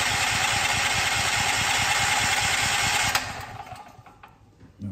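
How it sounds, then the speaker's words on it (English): Firman tri-fuel generator engine cranking over, a loud steady mechanical churn for about three seconds that then cuts off, leaving a quieter tail and a final small burst. "we're gonna go ahead and crank it for 3 seconds"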